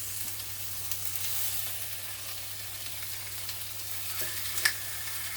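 Pork chops sear in a very hot cast iron pan with a steady, even sizzle and crackle. A faint low hum sits beneath, and one sharp tap stands out near the end.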